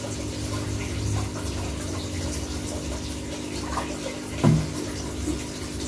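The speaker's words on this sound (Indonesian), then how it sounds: "Lalu tambahkan air hingga 250 ml." Water poured steadily into a diluted detergent solution to reach 250 ml during a school water-pollution experiment, giving a continuous rushing flow with a brief splashy surge near the end.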